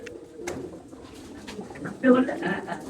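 A male and female Madrasi pigeon pair in a loft at Ichhapur, Kolkata, give soft, low coos close by, with one louder coo late on, while someone talks over them.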